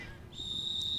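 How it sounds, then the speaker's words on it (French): A referee's whistle stopping play during a girls' U17 tournament final, a single sustained shrill blast over low crowd and arena noise. "L'arbitre siffle, arrête le jeu."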